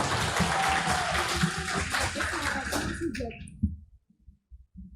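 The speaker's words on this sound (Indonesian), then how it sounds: "Tepuk tangan." Applause from an audience after a debate speech at a youth debate competition, a dense wash of clapping that runs steadily for about three seconds and then thins out into a few scattered claps before dying away.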